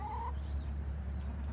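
A zoo chicken exhibit gives a brief, faint cluck over a steady low hum, close but quiet, with no other sound standing out.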